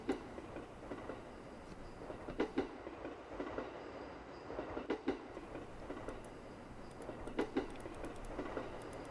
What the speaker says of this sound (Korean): 어쩐지 이 기차가 영원히 멈추지 않을 것만 같다